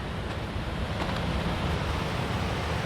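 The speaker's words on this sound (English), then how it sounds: "there's the river right there" A glacier-fed meltwater river flows below Mount Rainier, producing a steady, dense rushing wash heard from a moderate distance, even and unbroken throughout, with no one talking.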